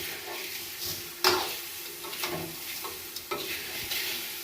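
Raw mango pieces tossed and mixed with sugar in a pan or bowl, close scraping and rustling strokes with a few sharper knocks, moderately loud and without speech.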